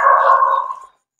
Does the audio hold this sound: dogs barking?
yes